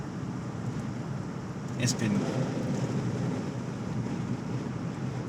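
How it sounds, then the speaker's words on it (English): Wind rushing past a slightly opened window of a 2018 Jeep Wrangler Unlimited on a gusty day: a loud, continuous low roar and buffeting of the microphone, swelling briefly, with a single spoken word. "Just roll the windows down just a little bit so you can hear. The wind is kicking a lot."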